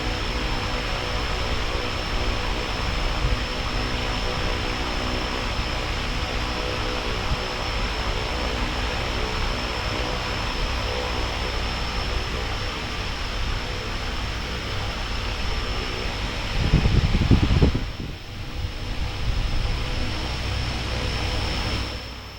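An R.C. plane motor runs at idle on a test stand, a steady whirring hum with broadband noise holding constant throughout, with a brief low thump or bump near the end before the drone resumes.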